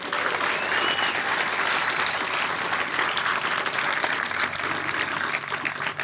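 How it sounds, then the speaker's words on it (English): A crowd at an outdoor dedication of a junior lifeguard facility applauds its instructors with steady, dense clapping that holds evenly for several seconds. "How about a round of applause for our instructors?"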